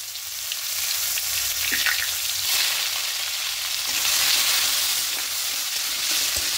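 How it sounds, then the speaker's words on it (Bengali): Sliced onion fries in oil with panch phoron and dried red chilli, a steady, close, even hiss of sizzling that holds for several seconds with no talk. "পেঁয়াজগুলো হালকা একটু ভেজে দেবো"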